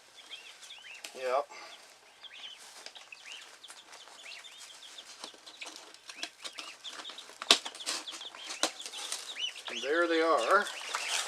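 Chickens cluck and chirp close by, with bursts of wing flapping and rustling, while a person speaks briefly over them.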